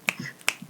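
Two crisp finger snaps, spaced about half a second apart, sharp and close with short decays in a quiet room.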